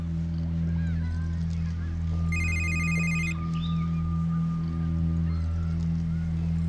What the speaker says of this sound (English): your phone, you gonna get that?